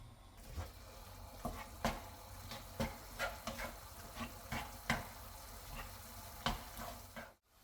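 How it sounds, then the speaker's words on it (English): Beef mince cooking down in a pan as its liquid reduces, a soft steady sizzle broken by repeated scraping and stirring knocks, fairly quiet and close with no voices. "we want to reduce that and cook it off until it gets a nice brown color"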